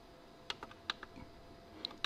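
Keys are pressed on a Dahua NKB1000 security control keyboard, a few faint, sparse plastic clicks close by in a quiet room.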